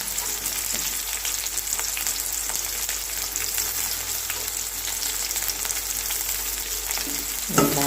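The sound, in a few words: onions frying in a pan for brinjal curry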